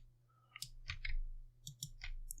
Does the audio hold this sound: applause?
no